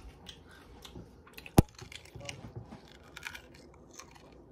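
Crunchy bacon chewed right up close, a steady run of soft crisp crunches with one sharp loud snap near the middle, no talking.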